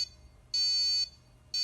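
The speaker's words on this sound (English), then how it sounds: "So the alarm's ringing because it detected movement." A security system alarm, set off by detected movement, sounds in loud high-pitched electronic bursts. Each lasts about half a second and is followed by a short gap, in a steady repeating pattern.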